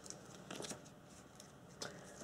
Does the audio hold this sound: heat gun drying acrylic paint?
no